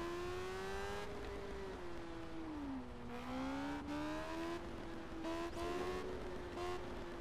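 Car engine in the racing game Test Drive Unlimited, a steady loud drone that rises, dips and climbs again in pitch as the car speeds up, easing off and accelerating over several seconds with no talking.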